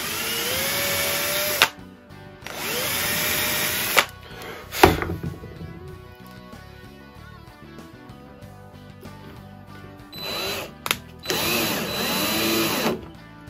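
A power drill bores into wood along the grain while a jig is being built. Several loud, high-pitched whirring bursts start and stop, with gaps of quieter handling noise and knocks between them.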